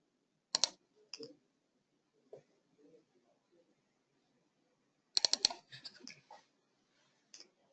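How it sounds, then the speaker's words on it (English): Mouse clicks on a button in SAP Business One accounting software: a few sharp, quiet clicks, one early and a quick cluster later, separated by faint soft sounds in a quiet room. "I will now click the Save as Draft button to save the current bank recon."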